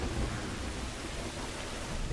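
Steady rain pours with a low rumble of thunder underneath in The Last of Us, a dense, even wash of sound with no voices.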